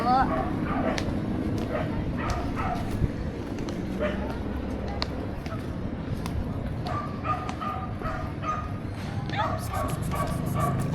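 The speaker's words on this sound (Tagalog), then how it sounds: "Nagagalit na naman yung aso." A dog yips and barks in repeated short bursts, with voices and background noise going on throughout.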